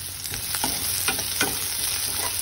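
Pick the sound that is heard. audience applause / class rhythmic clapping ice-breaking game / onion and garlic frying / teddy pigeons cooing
onion and garlic frying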